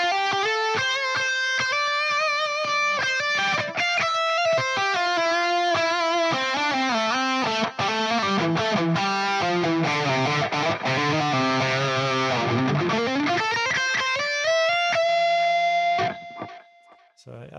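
Electric guitar played through a delay effect, with a melodic line of sustained distorted notes trailing echoing repeats, dipping into lower notes before a final held tone that fades out.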